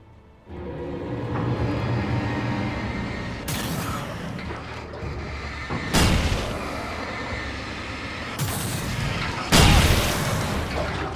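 Rolling oil drums explode in Alan Wake, setting off several loud booming blasts a few seconds apart over a rumbling background.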